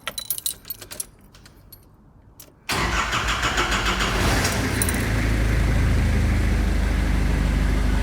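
Keys jingle near a Nissan Terrano after an oil change, then a short quiet gap before the engine cranks and catches, settling into a loud, steady idle that runs to the end.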